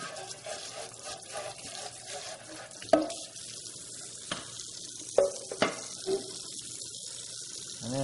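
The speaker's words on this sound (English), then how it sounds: "And then, of course, you can rinse the juicing containers." Running tap water rinses juicing containers in a kitchen sink, a steady splashing stream with occasional clunks and knocks of the containers against the basin.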